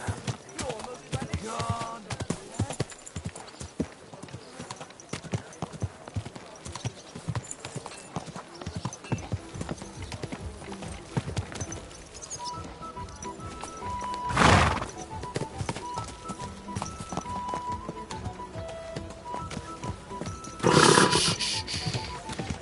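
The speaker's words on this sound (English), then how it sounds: "Easy, good horse." Steady clip-clop of horse hooves in the video game Kingdom Come: Deliverance II runs throughout, with two loud neighs breaking in partway through and near the end.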